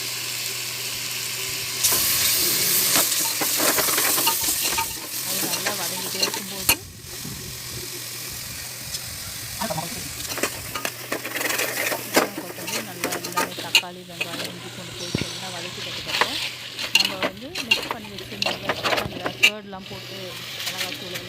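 Biryani masala with mint and coriander leaves sautés in a pan at home, a continuous sizzle with intermittent scraping and stirring clatter, fairly close and moderately loud throughout.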